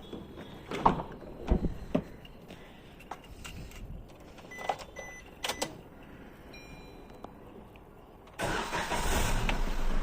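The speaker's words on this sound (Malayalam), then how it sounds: "അപ്പോൾ നമുക്ക് നേരെ വണ്ടി സ്റ്റാർട്ട് ചെയ്യട്ടെ." A taxi car left standing for several days is readied to start: keys jingle and a few sharp door and switch clicks sound in a quiet space, then the engine cranks and catches, settling into a loud, steady running idle.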